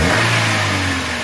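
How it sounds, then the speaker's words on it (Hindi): The engine of a 2004 Honda City, which has a fault that makes it jerk when accelerating, revs at idle with the bonnet open: a loud, steady, close-up engine note with no talk. "रेस दो"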